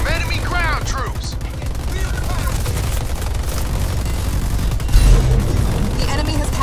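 Halo Wars 2 battle din of dense gunfire and booming explosions, loud and continuous, with shouted voices over the fighting.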